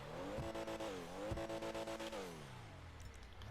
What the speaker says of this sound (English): Once again, that engine sound.